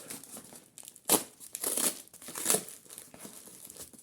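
Close crinkling and crackling of packing tape on a package, in irregular bursts with a couple of sharper rips, no talking.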